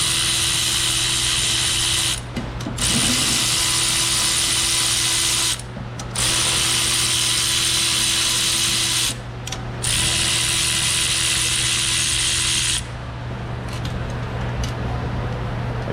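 Loud, close rapid ratcheting from a hand ratchet backing out the bolts on a damaged car's wheel bearing assembly, running in long continuous bursts separated by brief pauses.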